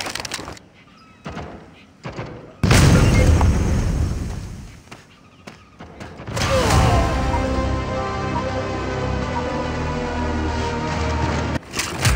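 Grenade blasts in the video game Critical Strike: two loud booms, the second trailing into a long rumbling roar, with quieter clicks and thumps between them.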